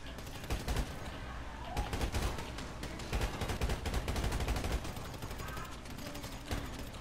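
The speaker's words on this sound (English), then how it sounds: "Keep shooting out there." Sustained gunfire in GTA 5 role-play: rapid, dense machine-gun-like bursts of shots run continuously throughout at a fairly low overall level, with occasional voices in the mix.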